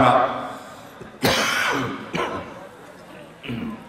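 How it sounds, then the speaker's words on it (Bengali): A man coughs and clears his throat several times before beginning a religious lecture, with short, harsh bursts separated by brief pauses, close and fairly loud. "আমার কাশি একটু ডিস্টার্ব করবে, আপনারা মাফ করবেন।"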